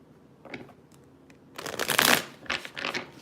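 A deck of playing cards gets shuffled up close, a few soft riffles and taps at first, then a louder extended riffling burst followed by shorter flurries, with no talking.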